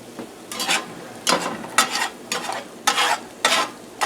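Eggs sizzle in a cast iron skillet while a utensil stirs and scrapes them in repeated strokes, close up over a steady frying hiss, with no talk.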